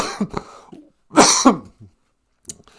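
A few harsh, close coughs come in short bursts, with brief pauses of silence between them.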